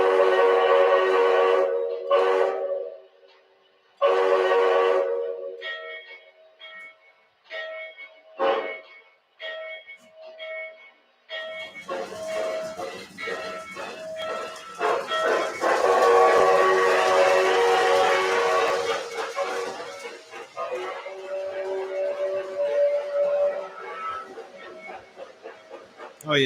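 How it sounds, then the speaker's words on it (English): A steam train whistle at New Hudson sounds in a series of short and long blasts, loud and close, with people talking between and under the blasts. "But listen to this whistle."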